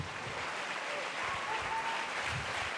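Applause from an audience for women athletes in a hall at a Geneva sports awards night, a steady dense wash of clapping with faint voices mixed in, held at an even level throughout.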